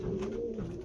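Andhra Lal Ful pigeons, a pair, cooing in a soft continuous murmur close by, with no talk over them.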